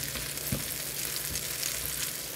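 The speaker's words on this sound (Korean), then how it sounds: "도톰하게 지금 부치고 있어요." A thick flour-free cabbage pancake frying in a pan gives a steady, close sizzle and crackle, with a couple of soft clunks along the way and no talk.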